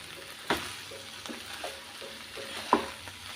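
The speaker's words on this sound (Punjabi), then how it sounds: "ਵਿੱਚ ਵਿੱਚ ਅਸੀਂ ਸਬਜ਼ੀ ਨੂੰ ਹਿਲਾਉਂਦੇ ਰਵਾਂਗੇ ਤਾਂ ਕਿ ਸਾਡੀ ਸਬਜ਼ੀ ਕੜਾਈ ਦੇ ਨਾਲ ਨਾ ਲੱਗ ਜੇ" Aloo gobi sabzi frying in a kadai while a spoon stirs it now and then: a low, soft sizzle broken by a few sharp scrapes and knocks against the pan.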